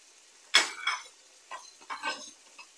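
Whole cumin and black and white cardamom being ground on a stone slab with a grinding stone, heard as a few separate scraping, gritty rubs and knocks, close and fairly quiet, with no one talking.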